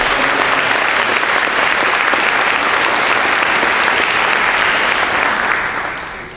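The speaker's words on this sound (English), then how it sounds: "Let's give her a round of applause for all the help that she's done" Sustained, dense applause from a ceremony audience at a college cording ceremony fills the room evenly for several seconds, then tapers off at the end.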